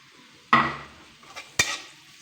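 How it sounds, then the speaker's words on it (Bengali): Chopped onion and garlic hit hot oil in a wok for tempering, two sharp sizzling bursts with a brief stir between, close and loud against a quiet kitchen. "তেল দিয়ে দিলাম কড়াইতে ফোড়নের জন্য"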